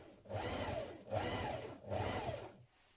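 A sewing machine stitches a dress tier in three steady bursts, each about a second long, separated by brief pauses. The hum is close and moderately loud, and no one speaks.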